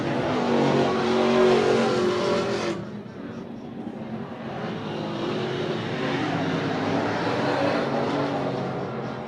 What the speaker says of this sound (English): The next car came around, Stephen Arlia, and Brandon Arthur now back